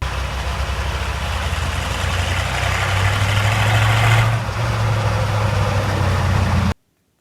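A twin-turbo 6.9 IDI diesel truck engine runs steadily close by, a loud low rumbling drone that swells slightly midway before cutting off abruptly near the end.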